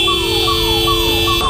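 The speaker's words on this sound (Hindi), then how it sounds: "पुलिस पीछे से सायरन बजा रहा है" A police siren wails in a repeated falling sweep over a steady electronic hum, continuous and fairly loud for a brief moment.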